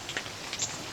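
Rain falling after a downpour outdoors in Kentucky woods, a steady soft patter and hiss of drops with a few sharper taps, continuous and moderate with no talk.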